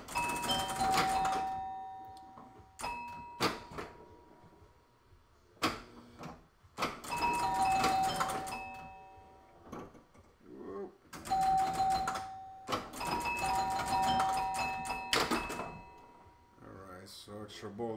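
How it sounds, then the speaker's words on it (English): Chimes from a Mars Trek pinball machine ring out in repeated bright bursts of tones among clattering playfield noises, while a person talks over the game. "It goes too fast for the chimes though."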